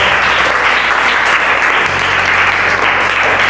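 Steady, lively applause from a small group of students in an English grammar class, continuous clapping throughout with no voices.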